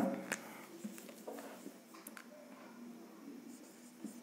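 Chalk or marker strokes writing a maths expression on a board during a classroom lesson, with short scratchy taps and scrawls spread across a quiet room, fairly faint and close.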